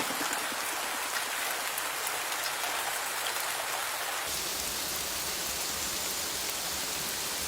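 Heavy monsoon rain pours down in the jungle, a dense, continuous roar of drops on surfaces that holds steady throughout.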